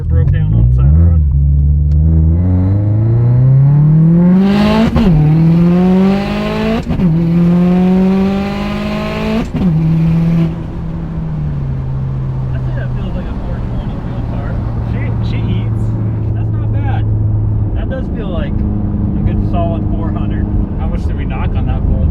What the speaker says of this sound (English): We're gonna have to do a 1 through 8th gear pull to make sure.